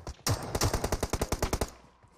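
Rapid automatic gunfire in the video game PUBG Mobile, a burst of about fifteen sharp, evenly spaced shots close and fairly loud, with a heavier first shot and the rattle fading out at the end.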